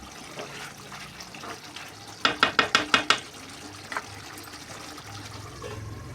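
Mutton curry simmering in a pot, spiced hot with little salt, with soft bubbling and faint scraping, then a quick run of five or six sharp clinks from a utensil knocking against the pot rim.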